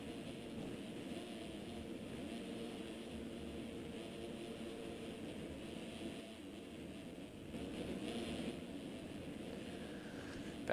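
Simulated 250F four-stroke motocross bike engines at a Las Vegas supercross race in a video game, a continuous droning buzz of several machines held at moderate revs, with a brief rise in intensity partway through.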